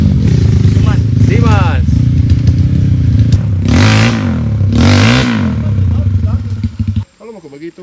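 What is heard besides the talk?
Kawasaki dirt bike revving uphill on trail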